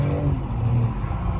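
A BMW M3 F80 or G80 engine revs loud and close while drifting at a track day in Bourbonnais, with a steady low droning roar throughout the brief moment.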